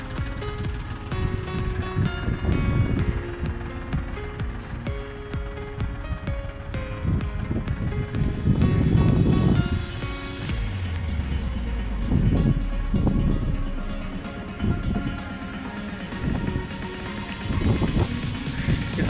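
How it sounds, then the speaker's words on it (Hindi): A Farmtrac tractor hauls a trolley loaded with about 75 quintals of sugarcane out of deep mud after rain, its engine a loud steady roar straining under load amid strong gusting wind noise. "बड़े आराम से निकाल ली ट्रैक्टर ने बारिश हुई थी गारे में से"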